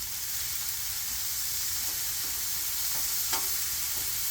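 Shrimp stir fry with soy sauce sizzles on a Blackstone griddle in a loud, steady hiss with faint scraping clicks, no talking.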